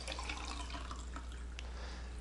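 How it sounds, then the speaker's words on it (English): Water is poured into a container holding sugar, a soft steady trickle and splash at close range over a low electrical hum. "Then you add 12 ounces of water"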